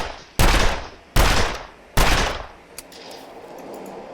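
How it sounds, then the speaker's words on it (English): Three loud, sharp gunshots ring out in the survival video game The Long Dark, evenly spaced under a second apart, each with a decaying echo, followed by quieter ambient noise and no talk. "Fire off one more canister of shots."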